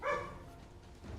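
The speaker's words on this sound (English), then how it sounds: "Pupper is barking, which is stressing me out." A dog barks once, fairly close and moderately loud, trailing into a short whimpering yip with a low background hum.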